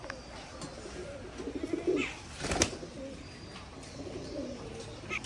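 Soft, low coos of Giribaz pigeons at a pigeon farm come in a couple of burbling bouts, with a brief clatter in the middle, against a quiet background.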